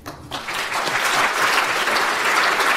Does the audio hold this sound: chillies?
no